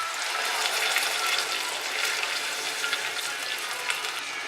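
About 250 ml of red wine poured into a cooking pot over garlic, chili and tomato puree, a steady close splashing liquid rush that runs evenly throughout.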